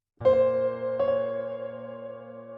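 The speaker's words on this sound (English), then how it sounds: "So I loaded a piano from Arturia right here and added some reverb," Two sustained chords on an Arturia software piano with added reverb ring out, the second entering about a second after the first, both trailing into a long, spacious reverberant decay.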